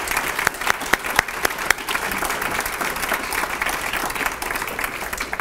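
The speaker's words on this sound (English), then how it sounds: "Can we give a round of applause for Dr." An audience at a palliative care dialogue event applauds Dr. Rajagopal, with a few sharp, distinct claps at first that swell into steady, full applause and continue evenly to the end.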